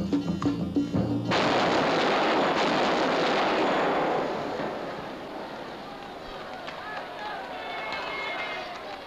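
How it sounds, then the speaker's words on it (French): A bomb blast at a central train station in a French film, a huge roaring explosion that swells and rolls on as a dense, long rumbling wash with debris-like crackle slowly fading over several seconds. "Une violente explosion s'est produite il y a quelques minutes à la gare centrale"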